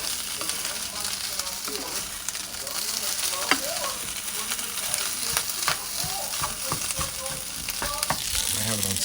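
Barley sausage kiszka fries in a pan on a stovetop, giving a continuous close sizzle broken by spatula scrapes and knocks as it is turned.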